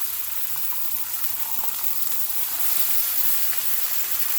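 Turkey sausage and turkey bacon fry in a pan, giving a steady, close, even sizzle with faint crackles that grows a little louder toward the end. No one speaks.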